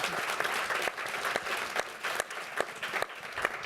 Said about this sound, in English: A big round of applause to them, please.